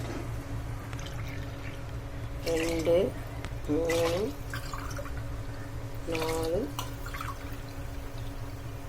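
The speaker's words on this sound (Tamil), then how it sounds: "5 டம்ளர் அரிசி ஊற்றியாச்சு." Rice poured tumbler by tumbler into water in a cooking pot for soya biryani, a soft steady watery patter running beneath a voice that counts aloud in short bursts.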